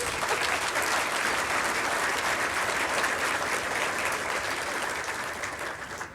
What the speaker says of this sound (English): you can give the good sister a round of applause